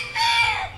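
A large, plump backyard rooster crows once, a short, close, bright call with a rising and falling tone and no talk over it.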